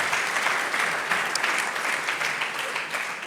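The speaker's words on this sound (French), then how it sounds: "Applaudissez-les." A room full of people at a business awards evening claps steadily and warmly, dense applause holding at an even level throughout.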